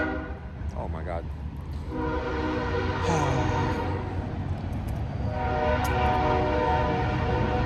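A train rolls through a small downtown street, a steady broad rumble building and holding, with a long horn blast rising partway through, heard from nearby outdoors while people talk.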